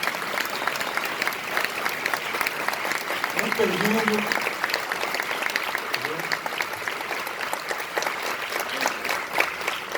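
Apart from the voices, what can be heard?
audience applause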